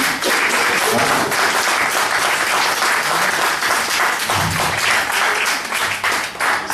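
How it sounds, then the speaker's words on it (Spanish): A conference audience breaks into loud, sustained applause, many hands clapping in a dense roar that holds for nearly seven seconds before easing slightly at the end. "¿eso no merece un otro aplauso?"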